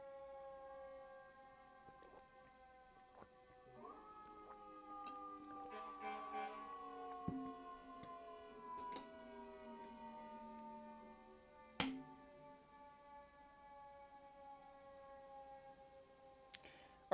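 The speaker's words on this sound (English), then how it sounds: "The police? That's the fire truck." A fire truck siren in the city wails with long falling and rising tones, heard from a distance and fairly faint, with sharp clicks and snaps scattered over it and no voices.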